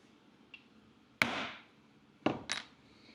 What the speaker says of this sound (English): I've got one more hole to punch right there. Because once again, I got to punch it through my liner.